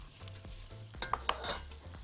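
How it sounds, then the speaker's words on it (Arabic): Diced onions sautéing in melted butter and oil in a pan. The low, quiet sizzle carries a few small scraping clicks from stirring, heard close up. "سيحنا الزبده والزيت، هنحط البصل،"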